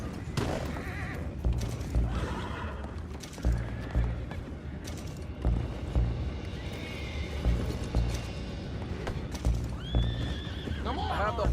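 Horses neigh and whinny repeatedly amid clopping hooves and creaking wood in Red Dead Redemption 2, with a rope and anchor scene nearby; voices talk over the commotion throughout.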